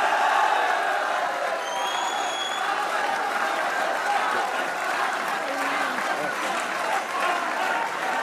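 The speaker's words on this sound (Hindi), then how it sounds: "और अहमद भाई की तरफ से बाबर के लिए तालियां होनी चाहिए" A crowd claps and cheers for Babar after a cricket match, sustained dense applause with occasional whoops rising above it, continuous and fairly loud throughout.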